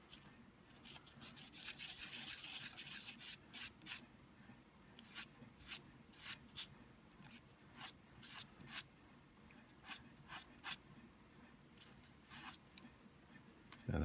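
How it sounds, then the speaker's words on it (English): A handmade miniature guitar top, a tiny Stevie Ray Vaughan replica, is sanded in short, dry rasping strokes, first in a dense flurry and then as separate scratches at irregular intervals, close and fairly quiet. "I'm going to sand up this top part just a little more"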